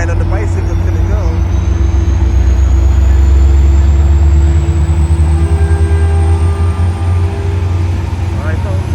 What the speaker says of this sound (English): look at that train off to San Francisco